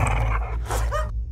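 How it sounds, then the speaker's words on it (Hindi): Dogs growl and bark in a short, loud burst from a scene in a Hindi-dubbed horror film, close and aggressive with no talk over it. "इन कुत्तों को रोकिए"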